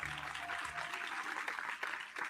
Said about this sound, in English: That's us applauding.